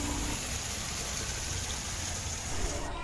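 Water flows and rushes steadily, driving a huge stone wheel that turns under water pressure at a science centre in Guwahati, with a broad, even, close wash holding constant for the whole stretch.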